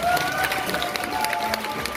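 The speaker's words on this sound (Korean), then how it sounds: "많은 박수와 격려 부탁드리고" An audience at a festival performance claps together in a dense, steady patter of applause that carries for a couple of seconds, with some faint voices and whistle-like tones mixed in.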